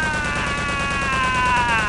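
Continuous automatic gunfire in Return to Castle Wolfenstein on PC, a loud unbroken rattle of rapid shots layered over steady tonal game sound, close and sustained for the whole stretch.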